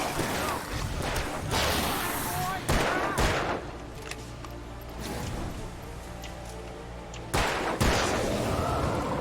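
Gunfire rings out in the video game Alan Wake, several loud sharp shots and bursts spaced across the stretch, with excited voices talking between them.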